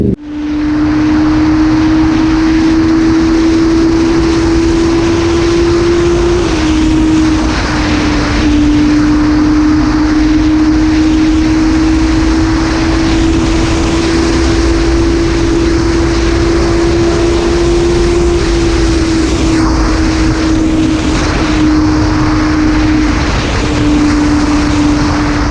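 A 2008 Honda Hornet motorcycle rides on an open road toward Sokhna, its engine a loud, steady drone with a slightly wavering pitch and constant wind rush, heard alone for the whole stretch.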